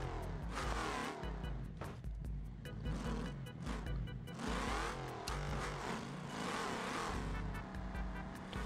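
Autobello Minilena with a stock V8 in the BeamNG.Drive game, its engine revving and surging in repeated bursts as it accelerates and shifts, close and continuous throughout.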